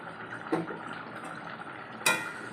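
Chicken curry stirred in a pot on the stove, with a few soft scrapes and clinks of the spoon against the metal, one sharp clink near the end.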